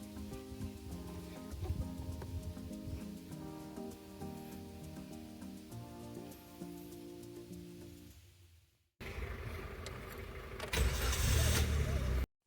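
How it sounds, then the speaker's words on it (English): A Suzuki DZire sedan starts after a long stretch of background music. The engine catches with a rough burst, then settles into a steady idle that swells louder near the end. "let us start the engine and check the flow of the aircon"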